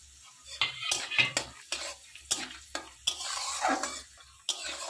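Dry fruits and cardamom pods frying and being stirred in a pan while making carrot halwa, with repeated scraping strokes of a spoon and light clinks against the pan, close up, no talk.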